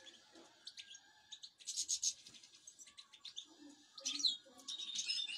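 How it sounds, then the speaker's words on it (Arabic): Caged goldfinch singing in bursts of bright chirps, trills and twitters, close and clear against a quiet background, with short pauses between phrases. "الطير لما يكون جاهز جيزه"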